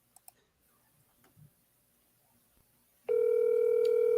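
A phone call is dialed and rings out, hoping for a voicemail pickup. A few soft clicks and faint handling noises come first, then a loud, steady dial or ring tone begins about three seconds in and holds to the end.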